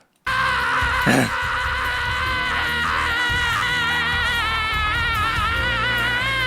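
An English voice actor screams in a played dramatic scene, with a sharp shriek near the start followed by a long, wavering, strained cry held at steady loudness.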